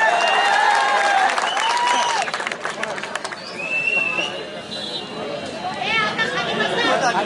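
Dense crowd applause and cheering at an outdoor political election rally, loud and sustained throughout with a brief dip midway, mixed with crowd chatter and shouts.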